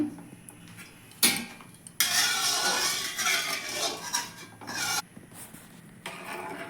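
A metal pot of milk being set down on a kitchen stove for making dudh puli, giving a few close clanks and scraping, rasping contact noises in separate bursts with short pauses between them.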